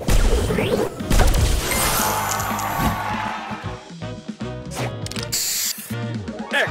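Spray booster effect in the Match Masters puzzle game: a burst of crashing, spraying hits and swooshes layered over bright game music and chimes, busy and loud throughout.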